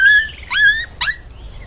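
Dog whimpering in a Hindi story, three short high-pitched yelps and whines in quick succession, close and clear with no talk.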